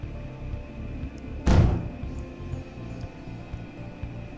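In the space game Starmade, a ship fires on a station block, producing a single sharp, heavy thud about midway through, standing out briefly over a low steady hum.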